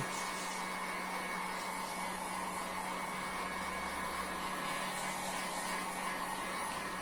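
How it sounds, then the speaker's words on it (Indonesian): Hot air from a heat gun dries screen-print paste on plain paper, a steady whirring blower hum that holds evenly for several seconds, close but moderately quiet, with no one speaking. "setelah itu kita akan keringkan menggunakan alat yang sama, yaitu hot gun. Kita keringkan."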